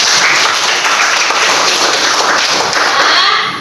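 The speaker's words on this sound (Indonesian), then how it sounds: "beri tepuk tangan dulu untuk Morin." Applause from a classroom of students for a classmate, a steady dense clapping that carries evenly and fairly loudly throughout before tapering slightly at the end.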